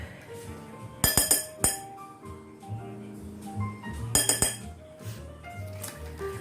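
Flour being mixed in a bowl for chicken fried steak: two bursts of sharp, bright clinks of a utensil against the bowl, with softer taps and rattles in between.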